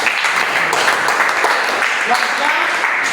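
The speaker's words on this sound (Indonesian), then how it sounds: "Oke, tepuk tangan buat kelompok." A classroom of students applauding a group, with dense continuous clapping blended with chatter and voices throughout.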